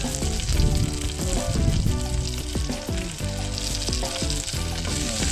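Food frying steadily in hot oil, a dense continuous sizzle with bubbling crackle and occasional clinks of a utensil against the pan, close and fairly loud throughout.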